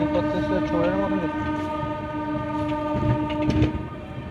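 Amrit Bharat Express train pulling into Dankuni Junction on its Sealdah–Varanasi inaugural run, with a steady loud rumble of the train, sustained horn-like tones and faint rail clatter throughout, with voices in the background.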